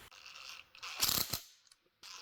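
Small alternator bolts being tightened on a rebuilt ACDelco alternator, heard as close ratcheting clicks and metallic mechanism sounds in a couple of short bursts with brief pauses between.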